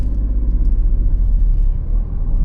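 A Tata Tiago petrol/CNG hatchback pulls away from a standstill in first gear, its engine a steady low rumble heard from inside the cabin, droning evenly for a couple of seconds with no talk.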